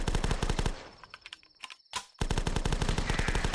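UMP automatic gun in the video game The Last Stand, firing loud rapid bursts of closely spaced shots, a brief pause with clicks and a sharp single crack, then another sustained burst.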